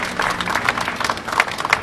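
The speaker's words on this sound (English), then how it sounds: "Let's give them all a round of applause." Outdoor audience applause at a Jordanian flag raising ceremony in Yonkers, a dense patter of many hands clapping steadily, fairly loud and close.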